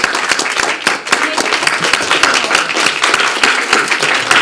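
An audience claps after a talk on the environment and human health, a steady, fairly loud round of applause from many hands that continues without a break.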